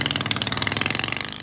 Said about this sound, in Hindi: लेमोजीन कार के बाद ये पेशे खिदमत है लेमोजीन मोटरसाइकिल।